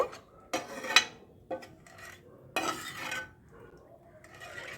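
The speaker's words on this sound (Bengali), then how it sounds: "সামান্য একটু এলাচের গুঁড়ো একটু মিশিয়ে দেব" Cardamom powder being stirred into a pitha mixture, with a few close scraping and clinking strokes of a spoon against a bowl, separated by quiet pauses.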